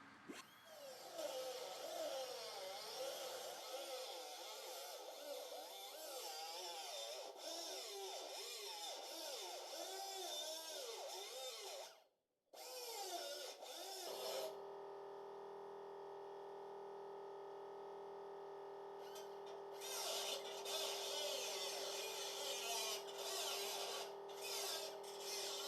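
Power tools cut through the right rocker and floor metal of a Triumph TR250, giving a rough grinding, rasping whine that shifts pitch and is interrupted by a brief pause before a steadier, higher hum takes over; no voices.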